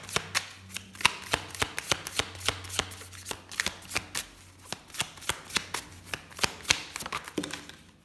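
Tarot cards shuffled by hand to draw two cards, a rapid run of crisp riffling snaps and taps repeating steadily throughout, close and clear with no voices.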